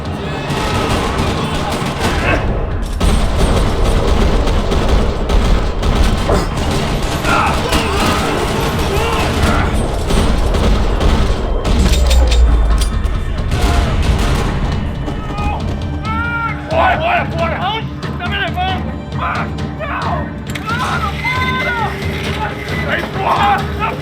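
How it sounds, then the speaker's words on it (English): Dense, continuous gunfire in a parking lot in the video game Max Payne 3, with mechanical clatter, loud and sustained, with bursts of shots and shouting voices mixed in. "Another parking lot rattling with gunfire."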